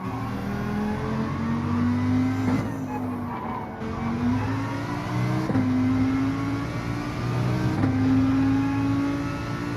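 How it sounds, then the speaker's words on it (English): A Lamborghini in Gran Turismo 7 racing at Trial Mountain reverse, its engine note climbing repeatedly as it powers out of corners, loud and close, with brief dips between each rising surge. "Lamborghini accelerates out the corners quite well"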